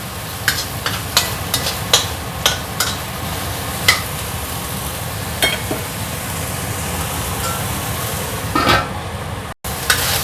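Shrimp being stirred and fried in a pan with seasoning, a steady sizzle running throughout beneath repeated sharp scrapes and clinks of the utensil against the pan, close and fairly loud with no talking.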